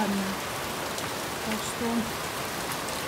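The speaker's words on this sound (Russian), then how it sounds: "Покрапывает такой редкий." Light, sparse rain drizzles after a heavy downpour, a soft steady patter close by, with a few brief spoken words under it.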